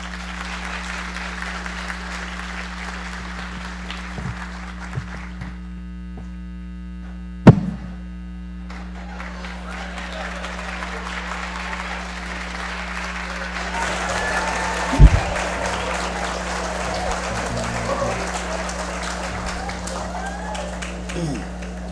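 Applause for Sir Franklyn Wilson at an evening conversation event, crowd clapping over a strong steady mains hum, with a short break and a couple of sharp knocks.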